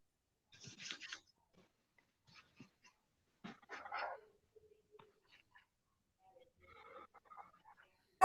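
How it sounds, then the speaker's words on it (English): Several short, faint dog barks and yips, scattered irregularly with quiet gaps between them, heard at a distance indoors. "Let me know if you can hear the dog."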